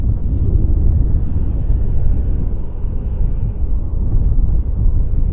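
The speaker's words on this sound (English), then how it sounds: "Isn't that a neat looking plane?" Airplane at Vancouver Airport on a strong-wind day, a steady deep roar of jet engines mixed with gusty wind rumble, loud and continuous without voices.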